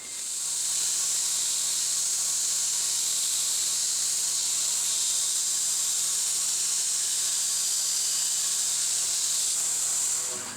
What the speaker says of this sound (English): it'd just be easier to grind them off with the sander